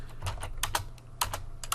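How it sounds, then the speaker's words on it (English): Keys clatter on a computer keyboard while HTML code is being entered, with quick uneven bursts of close, soft taps and no talking. "I'm typing really poorly"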